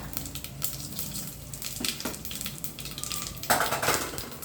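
Fenugreek seeds, tempering seeds and cumin fry in hot oil for a bottle gourd dal. A close, continuous crackling sizzle carries on, with occasional metallic clinks from the pan and one louder burst of spattering near the end.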